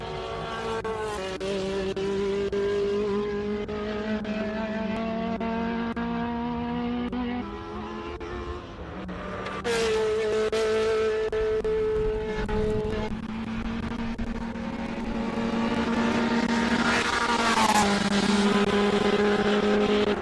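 A classic race car climbs the Simola hill, its engine revving hard through rising gear-change sweeps and bouncing off the rev limiter, loud and continuous, with no voices over it.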